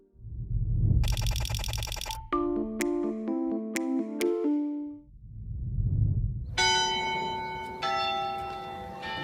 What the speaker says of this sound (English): The chime you're hearing is the clock tower atop the Rosenthal Library at Queens College